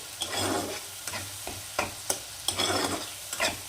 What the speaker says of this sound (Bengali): খুব ভালো করে নেড়ে চেড়ে একটু কষিয়ে নেব মশলা